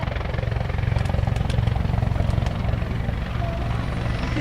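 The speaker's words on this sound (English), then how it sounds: "the Griffon helicopter" A CH-146 Griffon helicopter performs at an airshow, its rotor thumping in a loud, steady rapid pulse with engine whine, spinning and descending throughout.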